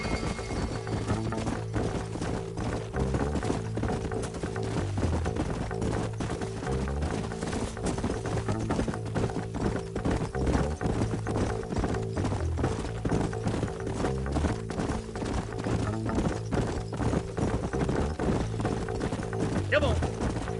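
Horses' hooves clip-clop steadily in Red Dead Redemption, an even trotting rhythm that runs the whole way through under a low droning music bed, with voices talking now and then.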